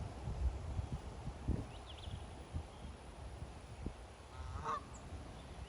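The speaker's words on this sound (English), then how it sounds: "Do you see the geese?" Geese near a backyard pond giving a few faint honks, one brief call early and a clearer honk near the end, heard over soft outdoor rustle and low rumbling footsteps.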